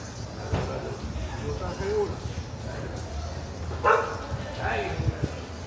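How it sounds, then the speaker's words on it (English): Small dogs yap and bark now and then in the distance, amid outdoor street noise and people talking in Panama's Chinatown (Barrio Chino). "Lots of little dogs."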